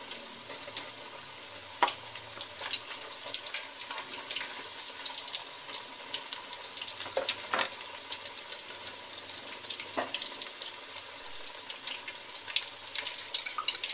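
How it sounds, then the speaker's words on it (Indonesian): Breadfruit pieces frying in hot oil over medium heat give a steady bright hiss with scattered crackles and pops, close and fairly quiet, with no voices. "Buah sukun digoreng dengan minyak panas."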